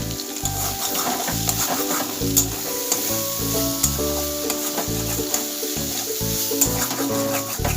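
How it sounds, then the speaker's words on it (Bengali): Mixed vegetables fry in a pan for a semolina bhuna khichuri, a loud, close sizzle broken by repeated scraping and clattering as a spatula stirs and turns them in an uneven rhythm. "সবজিগুলো ভাজতে ভাজতে সিদ্ধ হয়ে আসবে"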